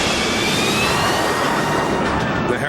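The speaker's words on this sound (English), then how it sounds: "This unique airplane was designed to take off and land without a runway." A Harrier jump jet engine roars loudly and steadily, a dense broad whoosh with a high whine running through it, close by.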